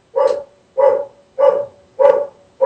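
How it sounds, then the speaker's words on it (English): A dog barks five times in a steady, evenly spaced rhythm, loud and fairly close, with no talking over it. "My dog's barking."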